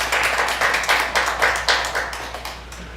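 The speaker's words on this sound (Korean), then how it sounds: "하나님께 박수를 한번 드리겠습니다." Congregation clapping together during a Sunday church worship service, a steady run of rhythmic claps from many hands filling the sanctuary, moderately loud and without talk.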